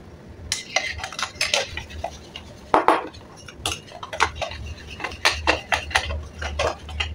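A metal spoon stirs crepe batter in a bowl, scraping and clinking against the sides in quick irregular strokes, close and fairly quiet.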